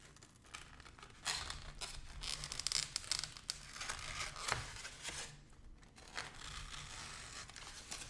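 Scissors cutting a paper part for a Goddard model rocket, close and quiet, a run of crisp snipping and crinkling sounds with irregular rhythm.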